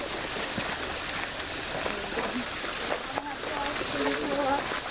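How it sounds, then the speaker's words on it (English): Cedar Creek flows past at Natural Bridge, Virginia, a steady soft hiss of moving water heard outdoors beneath a person talking. "This is Cedar Creek."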